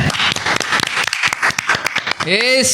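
Loud audience applause at a live Islamic podcast show, brisk clapping throughout with people talking and calling out over it, ending in a vocal exclamation.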